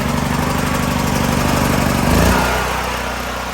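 A Firman dual fuel generator engine runs with a steady pulsing drone, then its tone shifts and settles into a smoother idle near the end, loud and close with no talk.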